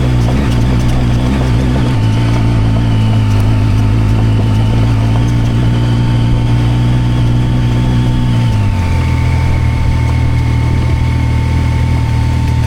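Zontes 703F motorcycle climbing uphill on a Carpathian trip, its steady engine drone holding a loud, continuous tone before the pitch drops as the rider shifts, with wind noise throughout and no talking.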